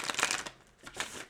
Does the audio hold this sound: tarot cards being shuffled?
yes